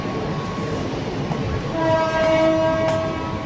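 A train rumbles and rattles steadily at a station platform in Dombivli, India, then a long horn tone sounds partway through, fairly near, with no talking.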